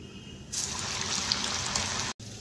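Soya chunks fry in oil, giving a loud, even crackling hiss that starts abruptly and holds steady before a brief cutout near the end.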